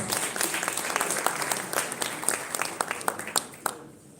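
A crowd at a business dinner applauds with dense, steady clapping for about four seconds, then the applause quickly dies away at the end.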